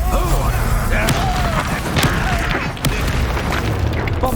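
In the wizarding video game Hogwarts Legacy, a Confringo blasting spell goes off amid a dense, loud combat soundscape, with a deep boom and rumbling thumps layered over constant battle noise and brief spell whooshes.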